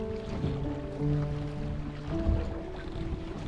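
A motorboat with a 75 horsepower engine runs on a lake, giving a steady droning hum with shifting pitch over water and wind noise, mid-distance with no talk.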